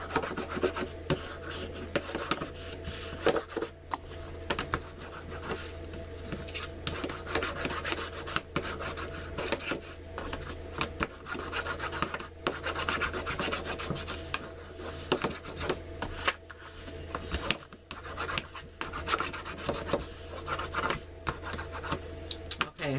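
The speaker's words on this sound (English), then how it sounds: "I'm going to burnish all these down." Paper folio pieces for a stationery folio are burnished down with a tool, giving a continuous close rasping rub, with strokes repeating in uneven rhythm and no voices.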